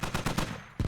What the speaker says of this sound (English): there's still plenty of gunfire coming from the insurgent side